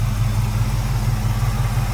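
A 1980 Chevrolet Camaro Z28 V8 with an Edelbrock carburetor idles steadily and smoothly, a deep, even rumble close by with no revving and no talk.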